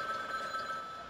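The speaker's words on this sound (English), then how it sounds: "Ooh, phone is ringing." A telephone rings in the video game Frog Detective, a steady electronic trilling bell that fills the short stretch alone at moderate loudness.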